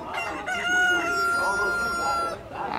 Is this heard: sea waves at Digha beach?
no